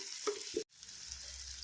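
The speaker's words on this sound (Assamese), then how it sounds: "বিলাহী, কেইটামান নৰসিংহ পাত দি ভালদৰে লৰাই ভাজি ল'লোঁ।" Soft sizzling of tomatoes and curry leaves frying in a pan, with a couple of scraping stirs early on, then a quieter steady hiss.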